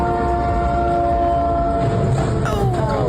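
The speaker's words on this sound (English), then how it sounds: "showing the moments a train slammed into that semi truck" In news footage, a train meets a semi truck: the train horn blares in steady, loud tones, then a sudden harsh burst breaks in near the end.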